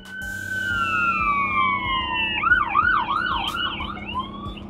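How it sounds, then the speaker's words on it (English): Emergency vehicle sirens wail loudly nearby, a steady two-tone sweep that shifts into a rapid warbling yelp over rumbling street traffic. "Why are there always sirens every time I'm trying to vlog?"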